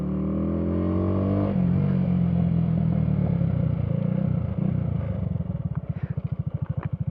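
A motorcycle ridden and turned sharply left and right, its engine holding a steady drone that drops to a loping, pulsing idle-like beat toward the end, loud and close.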